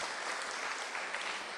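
Audience at an Indonesian spiritual talk claps together, a dense continuous burst of applause filling the room without voices over it.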